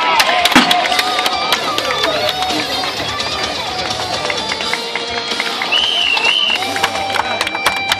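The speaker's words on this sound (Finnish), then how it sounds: "Ei muuta kuin yleisö käsiä yhteen." An audience at a stone-carrying strongman event applauds and cheers, a continuous wash of clapping and crowd noise with shouts and whistles mixed in. It holds fairly loud throughout, and a voice can be heard talking over it.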